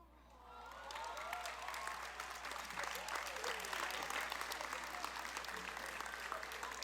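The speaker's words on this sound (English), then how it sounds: "Will our salutatorian V. Trin and her family please stand for another round of applause?" A large graduation crowd at Berkner High School applauds for the salutatorian and her family, building quickly into steady, loud clapping that holds throughout.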